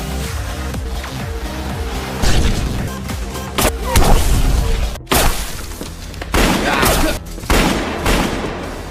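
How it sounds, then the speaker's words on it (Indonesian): Gunfire from a movie shootout at a resort, with repeated loud shots, booms and crashing impacts in dense overlapping bursts amid a tense action score. "di tengah ketegangan baku tembak yang masih berlangsung, Kang pada akhirnya dibuat terpojok"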